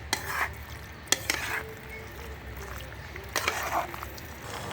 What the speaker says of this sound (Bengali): এ পর্যায়ে আমি ভালো করে নাড়িয়ে চাড়িয়ে মিশিয়ে দেবো আমি মিশিয়ে দিচ্ছি